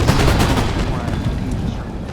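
A dense, rolling crackle of line infantry musket volleys in a video game battle between French and Danish forces, loud and continuous with overlapping shots in the distance.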